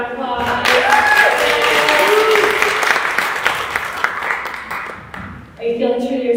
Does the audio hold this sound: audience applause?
yes